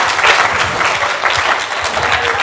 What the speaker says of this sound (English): Everybody's just clapping away blindly, huh?